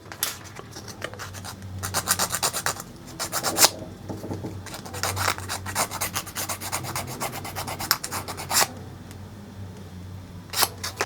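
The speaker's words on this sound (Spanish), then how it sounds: "si no entra, puedes lijar un poco el diente" Dry rasping strokes come in bursts, sandpaper rubbing back and forth on a tooth of a small plastic Dimorphodon model kit part, close up with brief pauses between passes.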